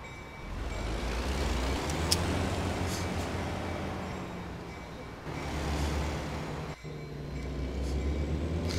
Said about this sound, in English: Enough with the stupid train already!